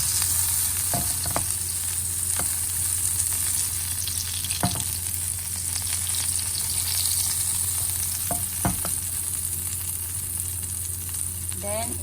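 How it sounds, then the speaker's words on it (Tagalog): Butter sizzles in a frying pan, a steady loud hiss broken by a few sharp clicks and scrapes of a utensil against the pan. "lagyan natin ng butter ang ating kawali"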